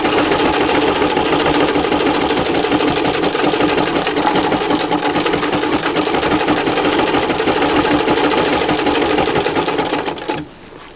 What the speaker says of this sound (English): just do a regular seam all the way down